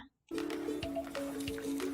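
Water is poured onto sandy soil packed in a plastic bottle in a classroom science demonstration, making a steady liquid rush with wet squishing and dripping sounds as it drains through, close and continuous.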